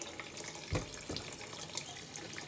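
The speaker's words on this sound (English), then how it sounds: "Just give that a rinse, scrape your nail along." Tap water runs steadily over a fresh herring fillet being rinsed in a sink, a close, even splashing stream with a couple of brief louder splashes.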